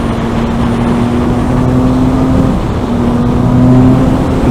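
Three-cylinder engine of a 2008 Triumph Daytona 675 motorcycle drones steadily and loud, holding a near-constant idle-to-light rev with a slight swell toward the end, no voices over it.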